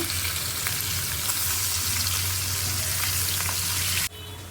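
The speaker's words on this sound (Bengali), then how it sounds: "আমি হালকা করে মাছগুলো তো ভাজিয়ে নিব আর কিছু কড়া করে ভাজিয়ে নিব" Hilsa fish frying in oil in a pan, a loud, steady, close sizzle that carries on without a break and then drops suddenly near the end as the heat is cut or the pan is moved.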